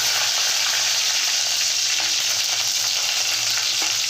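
Green chilies, garlic and dry red chilies frying in hot oil, a loud dense continuous sizzle with a couple of faint stirring taps, close and steady with no talk.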